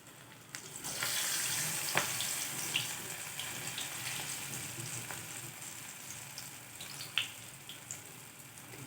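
Dal vada fritters made with fenugreek frying in hot oil over a low flame, a soft continuous sizzle with occasional crackles and pops, faint and steady.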